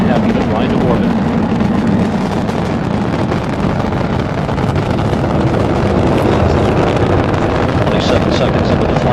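Space Shuttle Atlantis's three liquid-fuel main engines thunder through launch as a loud, continuous, wind-buffeted rumble, with a narrator talking over the roar.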